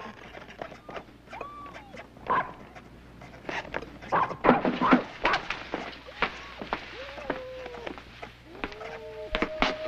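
A frightened dog left outside in a 1984 TV horror movie whimpers and gives short yelps and barks, the cries rising and falling in uneven bursts over a low background hum.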